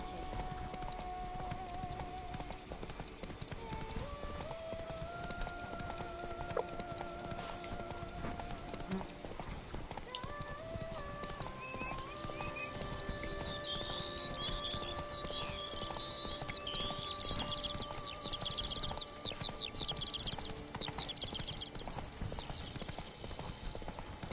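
Hooves clip-clop in a steady galloping rhythm from a horse in The Witcher 3: Wild Hunt, with game music playing underneath and a brief whinny.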